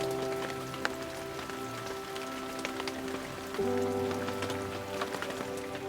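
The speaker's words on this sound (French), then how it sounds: "La pluie s'est invitée à Essaouira." Steady rain patters on a surface in Essaouira, Morocco, a dense, even hiss of drops with occasional louder splashes, no voices.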